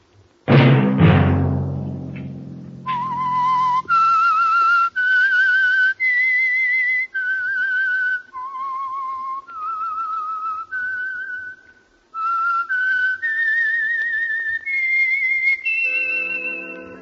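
A melodic whistled tune, rising and falling note by note after a brief opening thump, clear and close, with no talking.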